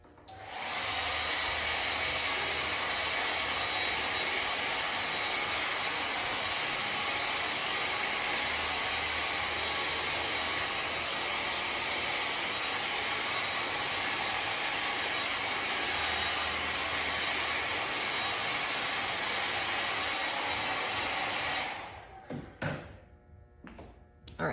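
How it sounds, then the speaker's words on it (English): A loud, steady blow dryer roars without a break for about twenty seconds, drying wet paint glaze, then cuts off, leaving a few quiet knocks and handling sounds. "I'm gonna just go blast this with the blow dryer for a second to dry these areas"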